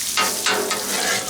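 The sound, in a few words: beef, mushrooms, peppers and onions frying on Blackstone griddle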